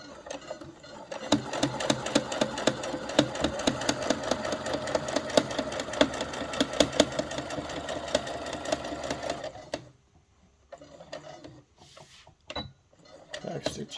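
A sewing machine runs in steady rapid bursts, stitching a seam forward with back stitches to lock it, loud and close for about ten seconds before stopping, followed by faint handling clicks.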